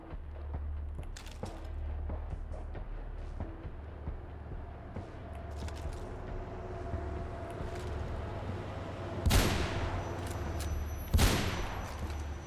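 Gunshots in the parkour game Mirror's Edge, a few sharp cracks over a steady low rumble, with two louder shots standing out near the end.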